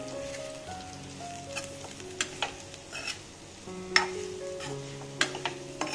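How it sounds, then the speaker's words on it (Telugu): Turmeric, cumin and coconut powder being stirred into potatoes frying in a pan for aloo fry, a steady close sizzle with scraping stirring strokes and a few sharper clinks against the pan. "ఒకసారి కలుపుతామండి."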